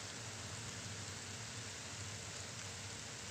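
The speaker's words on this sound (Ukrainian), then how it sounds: "І вже ось другу добу йде дощ, сіно мочиться." Rain falls steadily outdoors on a farm after two days of downpour, a constant soft hiss with no distinct drops and no talking.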